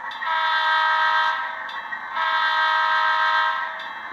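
A model locomotive whistle, a Tsunami2 sound decoder on a MoPac locomotive, sounds two long blasts separated by a short pause, loud and tonal with no talking.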